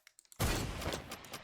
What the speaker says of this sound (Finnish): Mä ammuin Hunting Riflellä Creeperiin